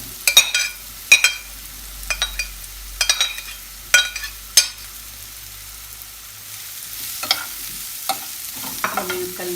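Onions frying in a pan, a quiet sizzle broken by sharp repeated clinks and scrapes of a utensil against the pan, close and fairly loud, without talk.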